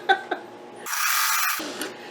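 A sewing machine stitches down raw edge fabric on a quilt block, a short steady mechanical whir lasting under a second between a few soft taps and clicks, close and moderately loud.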